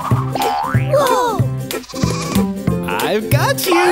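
Animated sheep bleat loudly in a Baa Baa Black Sheep nursery rhyme cartoon, giving wobbly, repeated baas mixed with springy boing effects and bright music.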